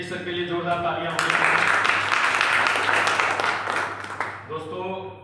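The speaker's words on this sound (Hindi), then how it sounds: "नफीस सर के लिए जोरदार तालियां होंगी।" A burst of clapping from the crowd at a health awareness programme welcomes a guest, rising suddenly after a spoken announcement and then thinning out as talk resumes over a steady background hum.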